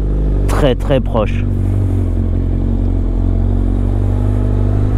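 A Kawasaki Z1000 motorcycle engine runs on choke at a raised, steady idle, loud and close. Someone speaks briefly over the constant rumbling drone near the start.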